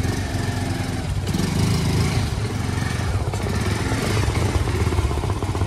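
A motorcycle engine runs steadily nearby, loud and continuous with a rough, clattering idle note that barely changes throughout, no talking.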